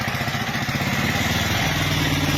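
A motor vehicle engine runs steadily and close by, a continuous throbbing idle with a low pulsing rumble, during an elephant encounter, with no clear voices over it.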